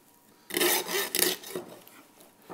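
A knife cuts through a veal shank in a kitchen, giving several close, rough rasping strokes in a row, each rubbing pass loud and brief, with a short quiet pause near the end and no talking.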